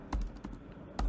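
Typing on a computer keyboard while entering a terminal command: a few quick, close key clicks in an uneven rhythm, with a sharper keystroke near the end.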